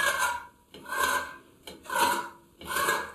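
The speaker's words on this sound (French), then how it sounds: "On va venir griffer, donc avec le bord d'un couteau ou éventuellement un vieux tournevis, ça fait très bien aussi." Four rasping scrapes as a knife edge is dragged across plaster filler during wall patching after tiles were removed, each stroke close and distinct, separated by short pauses.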